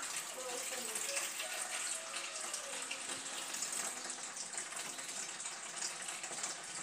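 Warm tap water runs continuously into a bowl in a home kitchen while preparing pigeon sausages, a steady close hiss and splash throughout, with faint voices in the background.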